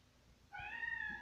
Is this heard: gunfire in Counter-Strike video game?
no